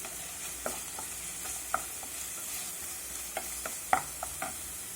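Vegetables with a pinch of garam masala get tossed in a frying pan for an egg roll filling, soft sizzling under light irregular taps and scrapes of a spatula, fairly quiet and close.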